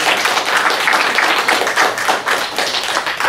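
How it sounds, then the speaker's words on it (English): Applause from a community audience at a neighborhood watch meeting, a loud, dense, continuous wash of many hands clapping that holds steady throughout. "Maybe give them a round of applause for the last couple of weeks."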